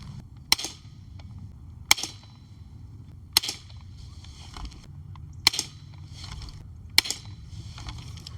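Five sharp air rifle shots from a Daisy Powerline 880 .177 firing gold-plated pellets, spaced roughly 1.5 seconds apart, each a crisp snap with a short ring over a low steady background hum.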